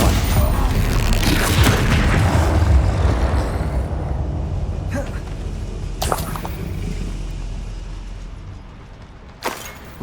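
A loud, rumbling magical blast from the Confringo spell in Hogwarts Legacy booms at the start and then fades out slowly, with a few sharp cracks and a final hit near the end.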